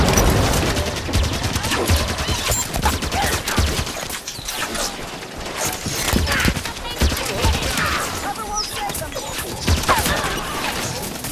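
Turret gunfire in Halo 5: Guardians combat, dense rapid bursts of automatic shots and impacts continuing through, loud and busy with game battle noise layered in.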